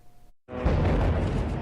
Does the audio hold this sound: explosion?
yes